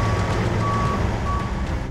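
A heavy rescue truck backs up on a highway in a sandstorm, its backup alarm sounding a few spaced, steady beeps over the loud, continuous rumble of the nearby engine.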